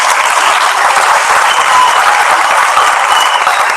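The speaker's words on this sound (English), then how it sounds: "please give them a round of applause." Loud, dense audience applause fills a school secondary prizegiving for the student council and prefects, continuous clapping throughout with no voices standing out.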